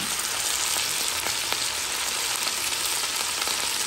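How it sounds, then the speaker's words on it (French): Chicken massalé frying in a pan with spices and garlic gives a dense, steady sizzle with faint crackles and pops, close and continuous throughout. "j'épice dedans, le bruit change, le bruit de la viande change"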